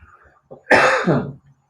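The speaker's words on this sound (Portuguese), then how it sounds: "eu estou com uma tosse terrível" A single harsh, loud cough up close from someone with a bad cough, preceded by faint throat sounds, then quiet.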